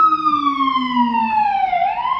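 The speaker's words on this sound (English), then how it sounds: "we have some sirens" An emergency vehicle siren wails through New York City streets, a loud, clear falling-and-rising tone sweeping steadily as the vehicle passes, with no talk over it.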